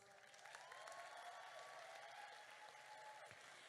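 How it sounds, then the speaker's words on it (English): Steady applause from a crowd at a high school graduation, a dense wash of clapping that holds for several seconds at an even level. "she deserves a big round of applause"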